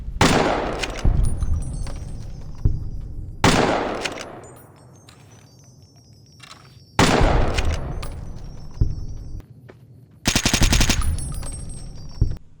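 Gunfire from a scavenged gun in a Fallout video game: four separate loud bursts, each a sharp report or short rapid volley trailing off into echoing decay, separated by brief near-silent gaps.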